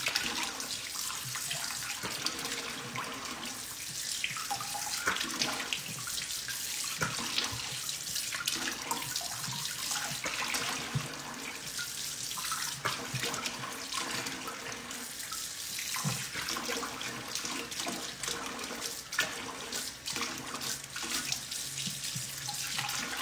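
Water pours steadily from a kitchen tap during rinsing, a continuous hissing splash that runs unbroken at close range with no voices.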